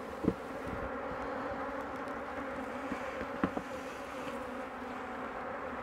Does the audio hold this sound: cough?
no